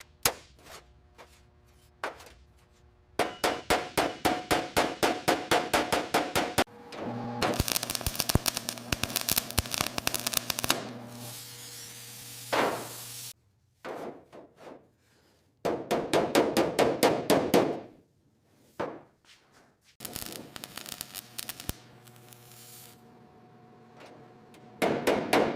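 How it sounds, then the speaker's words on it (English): A ball-peen hammer strikes an aluminum panel held in a vise while a curved part is hand-formed for a Rolls-Royce S3 Continental, giving rapid bursts of sharp, ringing metallic blows with short pauses between runs, close and alone. "We secure the aluminum in the vise and meticulously hand-form the curve using the ball-peen hammer"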